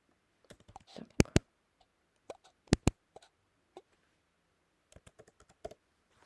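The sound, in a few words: typing Bollinger Bands into a search box on keyboard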